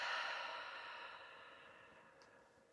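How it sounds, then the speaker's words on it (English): A slow, soft exhale out through the mouth during guided breathwork, a faint airy breath that gradually fades over a few seconds, close and quiet with no talking. "And breathing out through the mouth."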